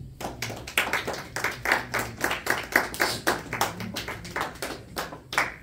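A church congregation claps in steady, rhythmic unison, bright sharp hand claps repeating quickly and loudly for several seconds with no talk over them.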